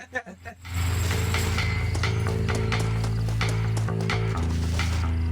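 Horses in the Western video game Red Dead Redemption, rhythmic clip-clop hooves and tack rattling under loud continuous game music, with a voice speaking over it.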